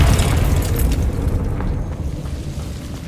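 A Confringo blasting curse explodes in the Hogwarts Legacy video game, a loud, rumbling boom that fills the whole moment and slowly rolls off, heard alone with no talk.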